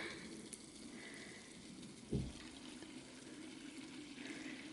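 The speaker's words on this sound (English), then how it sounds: "I just pour in a can of sparkling water" Sparkling water from a can poured into a half-full bottle of Pepsi Zero, a steady fizzing hiss and splash of carbonated liquid running throughout, with a brief louder glug near the middle.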